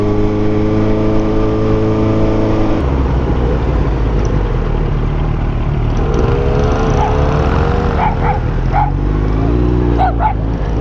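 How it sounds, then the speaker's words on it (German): A few mopeds and motorcycles pass close by with a loud, continuous engine drone whose pitch shifts as they go, joined by a few short yips from a dog near the end. "Sind nur ein paar geile Mopeds."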